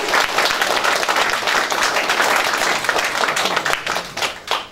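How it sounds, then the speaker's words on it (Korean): Loud, continuous audience applause fills a campaign office opening for a Korean National Assembly candidate, a crowd clapping hard for nearly five seconds with scattered sharper claps near the end. "여기에 동참하시면 진짜 박수 한번 부탁드립니다"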